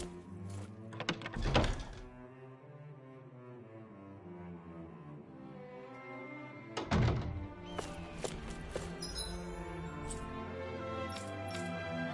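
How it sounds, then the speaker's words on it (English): Hammers bang in the PS5 game Tales of Arise, with a few heavy, hollow thuds landing over a steady musical background. "I always love the sound of hammers banging away."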